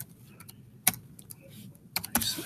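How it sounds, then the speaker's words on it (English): Sparse, irregular keystrokes on a computer keyboard, close and fairly quiet, with a few sharper clacks and short pauses between them. "I'm typing it."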